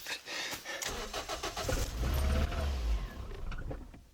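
A Toyota Yaris engine cranks, catches and runs roughly as if on three cylinders, then stalls, heard close with a lumpy low rumble that fades out near the end.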